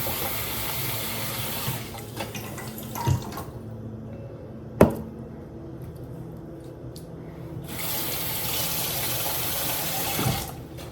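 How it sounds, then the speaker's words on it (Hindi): Water is poured over items to soak them. The flow splashes and trickles in bursts, with brief gaps and a few sharp clinks, heard close by. "अब एक बार का पानी डाल के अच्छे से गलने देती हूँ, तो और अच्छी धूल मिट्टी सब निकल के आ जाएगी"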